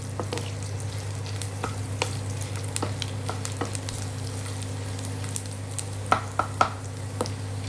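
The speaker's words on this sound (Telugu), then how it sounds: "ఫ్రై చేసుకొని బాగా కొంచెం బ్రౌనిష్గా అవ్వాలండి" Spicy puffed rice frying in a pan until brownish, a steady dense sizzle with occasional clinks and scrapes of a stirring utensil against the metal, close and continuous with no talk.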